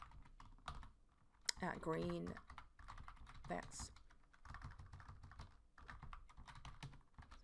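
Computer keyboard keys clatter in quick, uneven runs as an email address is entered into a username field, with soft voice in the background.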